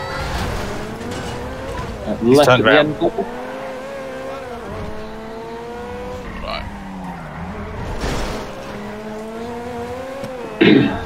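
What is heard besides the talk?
car driving and skidding in the video game GTA V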